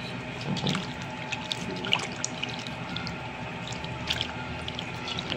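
Tap water runs steadily into a sink while food is washed for a mutton and water-gourd dish, with scattered drips, splashes and light clatter of handling, close and alone without talk.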